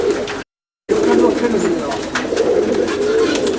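A grey dove coos in Sydney, Australia, its low, soft repeated notes continuing steadily beneath a man's nearby speech.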